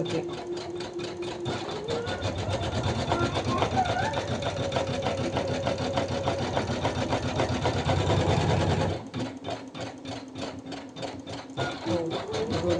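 An Usha 550E embroidery machine stitches a design on net fabric with a steady, loud, rapid needle rattle and motor whir that runs continuously, changing pace briefly near the end.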